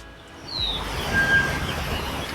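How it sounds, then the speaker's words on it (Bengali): Mixed birds call outdoors around a hillside resort in Bandarban, a high chirp standing out briefly over a steady, fairly loud wash of outdoor noise. "ডিফারেন্ট টাইপের পাখির ডাক শোনা যাচ্ছে"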